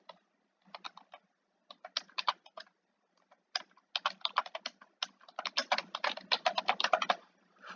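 Someone types on a computer keyboard in bursts of quick, close, crisp key clicks separated by short pauses, growing busier toward the end, with no voices.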